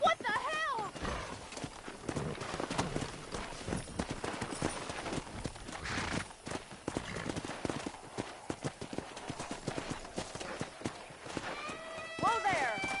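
Hooves clip-clop steadily at a trot with a horse whinnying now and then in the video game Red Dead Redemption, under a busy mix of voices and game noise.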